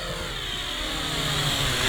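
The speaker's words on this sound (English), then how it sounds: "The drone sounds good for a big brushed drone like that, even though the gimbal's brushless." A WLtoys Q696-D brushed camera drone with a brushless gimbal passes overhead, its motors giving a steady, fairly loud buzzing whine that holds throughout.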